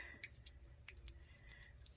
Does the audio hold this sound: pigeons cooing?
no